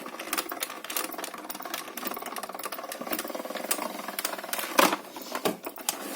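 A greeting card fed fully open through a die-cutting machine gives a steady, close mechanical whirring and rattling for several seconds, with one sharper clack near the end.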